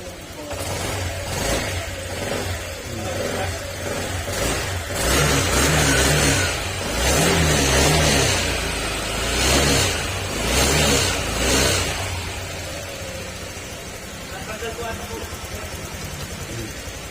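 A mid-pitched engine runs steadily, revving up and down in several swells before settling back toward an idle, with a voice talking over it.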